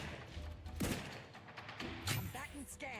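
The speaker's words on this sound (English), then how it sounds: "this new sniper rifle kicks ass" Sniper rifle in The Outer Worlds 2 firing a few sharp, booming shots spaced apart amid game combat noise, with a voice talking briefly.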